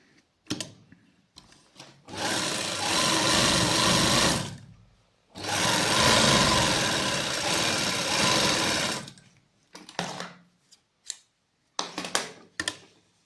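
A sewing machine stitches a straight salwar in two long steady runs of whirring stitches, each about four seconds, with brief clicks and handling noises between and after the bursts.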